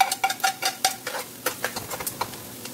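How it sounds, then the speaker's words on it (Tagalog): Onions for pork dinuguan being stirred in a pan, a run of close, clattering scrapes of a utensil against metal in an uneven rhythm, loud at first and then easing, over a faint sizzle with no voices. "So, transparent po natin ang ating onion at sibuyas para malasa."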